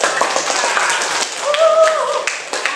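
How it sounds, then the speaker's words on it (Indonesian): A classroom of students claps after a group presentation, a brief, loose spatter of hand claps with a short tonal squeak partway through. "Ya, berikan tepuk tangan."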